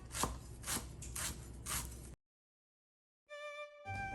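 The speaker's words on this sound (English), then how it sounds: "chop up about 1/4 cup of parsley" Fresh parsley chopped with a knife on a cutting board: five or so crisp, evenly spaced blade strikes close up, a brief silence, then a short burst of further chopping.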